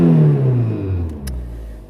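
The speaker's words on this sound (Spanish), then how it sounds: "Ahora está el ralentí, pero fijaros, un sonido que está acrecentado porque no tenemos catalizador" Renault Clio 16V engine idling with no catalytic converter, a loud, close, steady low rumble that slowly settles in pitch, with a brief click partway through.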